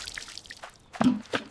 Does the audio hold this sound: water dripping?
yes